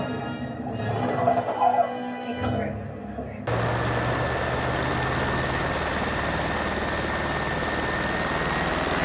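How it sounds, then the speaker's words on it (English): A helicopter goes down into the water in the film Jaws 2, and a dense, steady roar of rotor and engine noise begins abruptly partway through and holds to the end, following a stretch of people talking. "Chopper hitting the water!"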